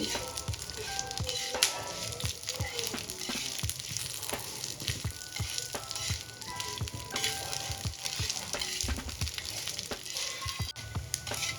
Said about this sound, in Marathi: आता हे सर्व साहित्य आपण काही सेकंदासाठी परतून घेणार आहोत तेलामध्ये